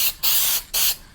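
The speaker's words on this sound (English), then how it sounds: "Now I'm just gonna give a dust coat," Short bursts of spray paint hiss out of an aerosol can as a light dust coat goes onto a car emblem, three quick close sprays with brief gaps between them and no talking.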